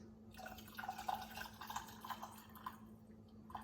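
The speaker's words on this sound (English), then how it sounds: "I'm just going to scoop all the beef broth in it" Beef broth scooped into a canning jar for beef stew, faint soft liquid pouring and dripping with small splashes, quiet and close with no talking.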